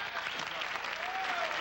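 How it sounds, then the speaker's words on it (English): A game show studio audience breaks into continuous applause, a full, even clatter of many hands, with faint voices mixed underneath. "you can applaud if you like"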